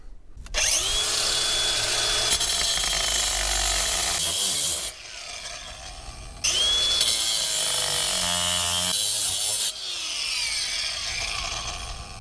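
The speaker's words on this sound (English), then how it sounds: "I'm going to get my diamond grinder blade and I'm going to cut that pipe" A diamond grinder blade cuts through ABS plastic kitchen drain pipe in two loud, sustained bursts of whining, rasping power-tool noise, broken by a brief quieter pause and followed by lower grinding as the blade winds down.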